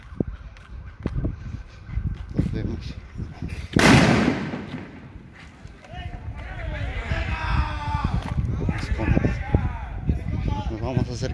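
Tear gas canisters are fired from armored riot vehicles during a clash at a rural teachers' college in Chiapas, Mexico, with sharp loud bangs and a big burst amid crowd noise, running footsteps and shouting voices.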